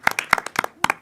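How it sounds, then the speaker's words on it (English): Sparse clapping from a small audience at an evening talk event, a handful of sharp individual hand claps in a loose, uneven rhythm, close and fairly loud, with no voices. "if you just give him a quick round of applause"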